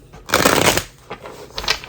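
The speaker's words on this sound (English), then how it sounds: "6 shuffles to honor that lover's energy" Tarot cards riffle-shuffled up close, a dense half-second burst of papery flutter followed by a few lighter slaps and a second short riffle near the end, with no talking.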